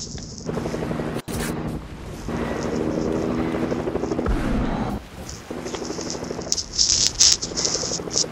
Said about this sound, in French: j'entends quelqu'un qui reprend son hélico